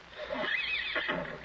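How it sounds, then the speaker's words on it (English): Horses neigh and whinny close by in a brief, loud burst of rising and falling calls, heard on their own. "Oh, those stupid horses."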